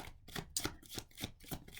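Divination cards are shuffled by hand in quick, rhythmic riffles, several soft papery bursts close to the microphone with no talking.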